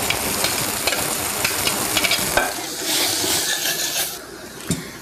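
Peas frying in light soy oil in a pan for Indian appetizers, a dense, continuous close sizzle with scraping stirs throughout and no talk.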